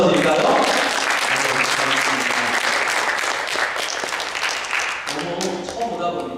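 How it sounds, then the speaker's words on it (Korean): A church congregation gives warm applause to welcome a new member, sustained clapping that fills the room for several seconds before thinning out, with voices audible near the end. "우리 한번 뜨겁게 박수 한번 쳐드릴까요?"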